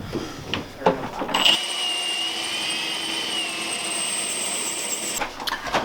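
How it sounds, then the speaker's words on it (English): A high-pitched electric drill whines steadily for several seconds, boring into hard steel on a Ford Transit van, a sustained drone starting and stopping abruptly, with a few clanks before it. "go in with a smaller drill bit first and then open it up to the 25/64 bit"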